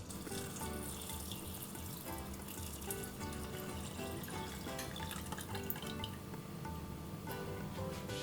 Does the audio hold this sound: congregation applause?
no